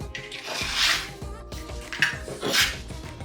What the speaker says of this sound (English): I'm going to take 2 spring onions and also chop them.